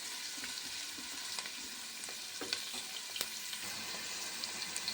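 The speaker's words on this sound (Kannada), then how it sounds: "ಇದು ನೋಡಿ ಸ್ವಲ್ಪ ಫ್ರೈ ಆಗ್ತಿದೆ" Onions fry quietly in a pan with a soft, continuous sizzle and occasional light taps and scrapes of a spoon, with no voices.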